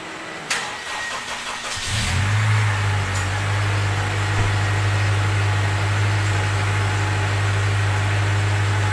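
A car engine starts after a jumpstart: cranking for about two seconds, then the motor catches and settles into a steady, loud idle with a continuous low hum.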